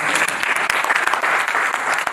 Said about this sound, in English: Please, everyone,